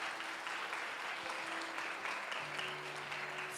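Applause from a church congregation welcoming first-time visitors, a steady, dense clapping that fills the whole moment with no pauses.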